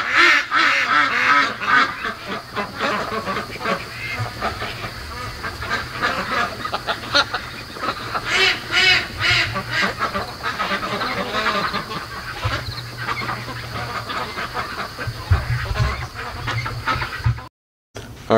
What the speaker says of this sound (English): I'll show you what the ducks do in the middle of the night.